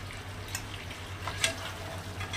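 Fried chicken tossed into a pan with spiced sour yogurt over a low flame, giving a soft steady sizzle with a few scraping stirs and light clinks, heard up close without talk.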